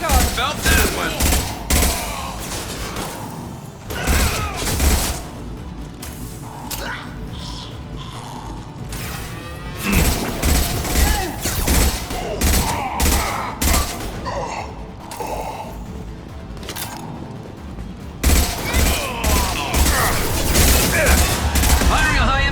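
Gunfire in the Mass Effect game, dense bursts of rapid automatic shots and booming impacts in a firefight, with short lulls between volleys and voices calling out during the action.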